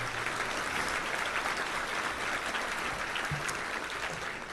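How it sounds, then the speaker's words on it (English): Steady, dense applause from a crowd at a touchdown club luncheon, clapping continuously at an even level throughout with no pauses. "Let's give a round of applause to all of our team."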